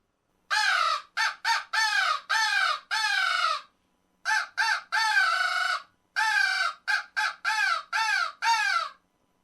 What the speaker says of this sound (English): they added a piece that does in fact act like a megaphone to our regular crow call